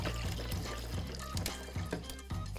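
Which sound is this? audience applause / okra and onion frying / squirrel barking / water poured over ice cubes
water poured over ice cubes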